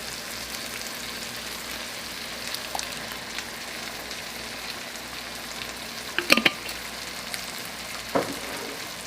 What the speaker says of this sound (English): Okay, so let's start adding our sauce. Using this tomato sauce here.